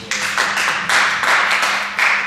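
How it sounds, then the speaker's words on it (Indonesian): Church congregation clapping in rhythmic bursts during a pastor's sermon, several loud surges of hands in quick succession with brief dips between them, no voices heard. "Tepuk tangan luar biasa"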